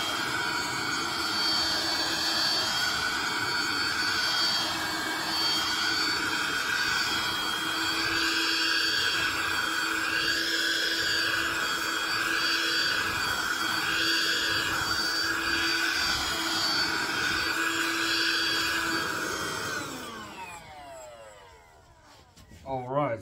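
Bissell StainEraser turbo carpet cleaner vacuuming carpet with a loud, steady whine and roar that holds for about twenty seconds, then cuts off and winds down.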